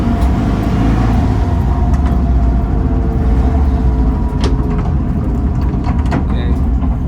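A 1966 VW Split Bus with dual carburetors and a newer transmission is road-tested, its engine and road rumble loud and steady from inside the cabin, with mechanical clunks and rattles over it as gears are tried and a voice speaking briefly.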